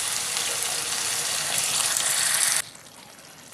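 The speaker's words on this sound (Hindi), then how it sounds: "1 छोटा कप पानी डाल लेंगे।" Water poured into frying masala for chicken keema gives a loud, hissing sizzle that holds steady for about two and a half seconds. It then drops off suddenly to a quieter simmer.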